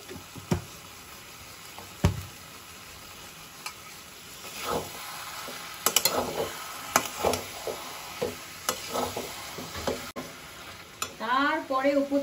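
Ghee sizzles and spatters in a pan while a prawn dish cooks, soft crackling broken by sharp stirring scrapes and clinks, with a denser burst of frying toward the end.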